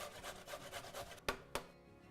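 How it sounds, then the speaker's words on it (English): A large carrot rubbed against a grater in a kitchen, quiet rhythmic rasping strokes in a steady back-and-forth pattern, ending with two sharp taps. "we're going to peel and grate 1 carrot"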